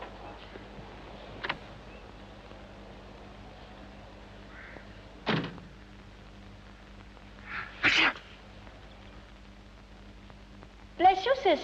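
A single sneeze stands out amid quiet room tone, with a few other short vocal bursts and throat sounds spread across a scene set in a period film.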